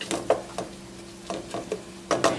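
Tomatoes, onions and garlic stirred in a hot pan over medium heat, with repeated scraping strokes of a utensil against the pan over a steady low sizzle, close and moderately loud.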